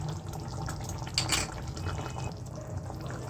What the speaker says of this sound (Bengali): তাই সামান্য একটু আর একটু জল দিচ্ছি